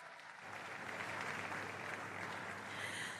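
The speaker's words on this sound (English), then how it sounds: "That deserves a round of applause." A round of applause at a corporate career fair, steady dense clapping from a seated audience that sustains evenly for a few seconds without voices on top.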